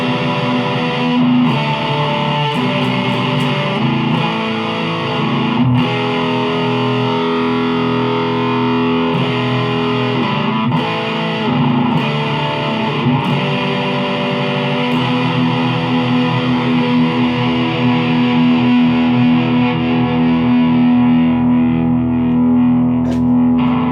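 Epiphone ES 335 electric guitar played through fuzz distortion, thick sustained chords and riffs ringing loud and continuous for the whole stretch, no voices.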